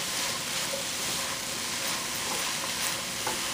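Chinese rice ingredients stir-frying on a high flame, a loud continuous sizzle and hiss with scraping stir strokes, close and steady without any voices.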